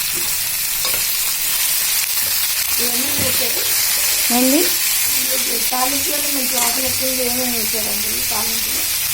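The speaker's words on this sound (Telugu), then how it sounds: "వెల్లుల్లిపాయ, జీలకర్ర, ఆవాలు, పచ్చనపప్పు, పచ్చిమిరపకాయలు అన్నీ వేసాను" Steady sizzling and hiss of garlic, cumin, mustard seeds, chana dal and green chillies tempering in hot oil fills the whole clip, with a voice speaking briefly partway through over the crackle.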